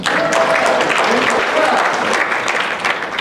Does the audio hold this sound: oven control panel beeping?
no